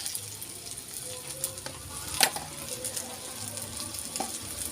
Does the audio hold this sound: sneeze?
no